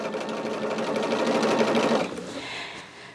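A sewing machine runs steadily while stitching a scrap quilt, a loud, close, even whirring rattle that slows and fades near the end, with no voices.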